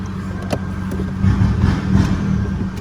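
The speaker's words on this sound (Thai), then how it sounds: "เนี่ยเข้าเกียร์หนึ่งนะ คันเร่งมาเลยนะ" A car engine runs in first gear with the throttle pressed after a fix for the throttle cutting out when shifting gears, a close, steady hum that swells slightly twice, with no talk.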